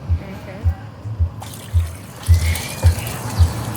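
Water swirling and draining in a basin during an equator spinning demonstration in Uganda, with metal and a flower placed in it: low gurgling pulses recur every half second or so, close and fairly loud, over a hissy trickle.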